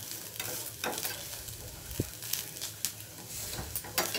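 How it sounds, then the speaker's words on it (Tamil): Food stirred and roasted in ghee in a pan while making wheat flour paniyaram: a steady sizzle runs underneath, with scattered scrapes and taps of the spoon against the pan. "நல்லா அந்த நெய் கூட நல்லா மிக்ஸ் ஆகணும், நல்லா வறுபடணும்."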